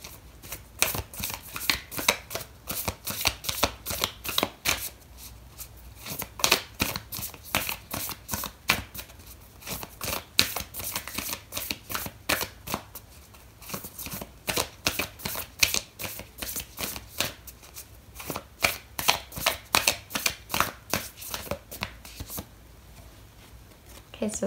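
A deck of oracle cards is shuffled continuously in a steady, rapid riffle of crisp papery flicks, close and fairly loud, with soft gaps and a few pauses as the cards are handled for a reading.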